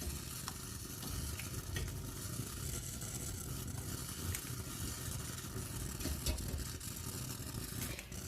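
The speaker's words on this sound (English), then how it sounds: "Now I'm just going to give that a good stir." Homemade lavender and ylang ylang soap mixture being stirred, a soft, continuous scraping and swishing with small clicks scattered through it, quiet and close.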